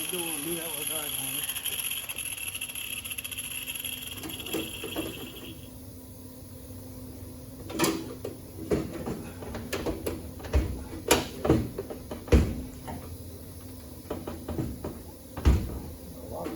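The door of a 1961 Chevrolet Impala hardtop, converted from four-door to two-door, is opened and shut in a workshop, giving several sharp clunks and thuds in irregular succession, with people talking between the knocks.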